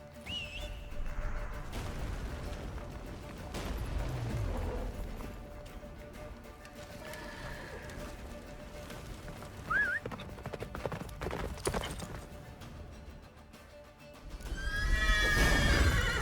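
Roach, the horse in The Witcher 3, gallops with rhythmic clip-clopping hooves and neighs, with brief whistle-like calls and a loud burst of galloping and whinnying near the end.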